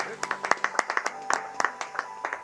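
A small church congregation claps for the Lord in a steady, evenly spaced rhythm of sharp claps, close and moderately loud, with a voice speaking underneath.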